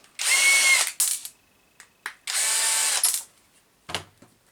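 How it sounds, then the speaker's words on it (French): A power drill screws a speed controller onto the mounting plate of an Arrma Fireteam RC car: two long, loud, whirring bursts with short clicks and a tap between them, then a final knock. "Je préfère vraiment visser mon vario à ma plaque support."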